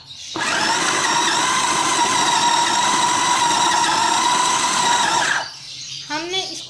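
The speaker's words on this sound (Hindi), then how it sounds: "अब हम इसको ग्राइंड कर लेंगे" A loud electric grinder blends a kofta meat mixture with ginger pieces, a steady high whirring motor with a squealing whine running about five seconds alone before cutting off, followed by faint clatter.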